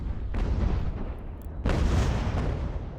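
Mortar fire thunders in the game Ultimate General: American Revolution during the invasion of New York, with two heavy booming blasts whose rumble rolls on and fades behind the battle noise.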